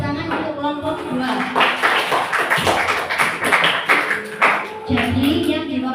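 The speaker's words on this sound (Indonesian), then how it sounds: "Beri tepuk tangan untuk kelompok 2" Applause from a classroom audience for a student group that has just finished its presentation, steady clapping across the whole stretch with voices talking over it throughout.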